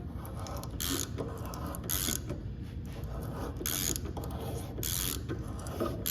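Hand-turned cutter tool slicing an LS exhaust O-ring: continuous close mechanical grinding and clicking, with regular brighter ratcheting bursts about every second as it rotates.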